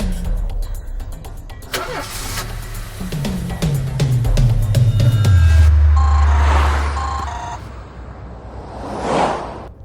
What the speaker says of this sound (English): Start the car quick.